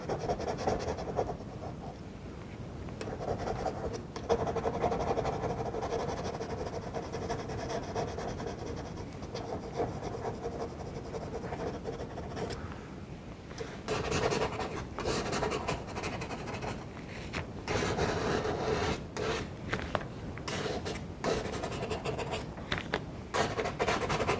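A palette knife scraping excess paint off a quick lilac study: soft, continuous rubbing and scraping strokes, quiet and close, growing busier in the second half.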